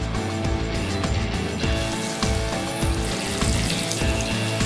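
Bacon-wrapped chicken legs frying in a hot pan with olive oil, giving a loud, dense, continuous sizzle and crackle close up, with small pops throughout and no talk.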